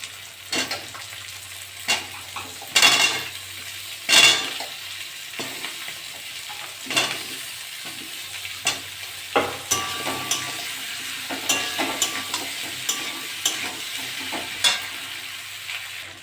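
Potatoes fry with ginger and garlic in a pan, giving a steady close sizzle broken by repeated scraping knocks from stirring, with no one speaking.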